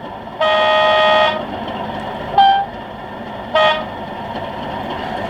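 Three low-tone air horn toots from an OO gauge Accurascale Class 37 model locomotive: one long blast followed by two short ones, lower and fuller in tone, over a quiet mechanical hum.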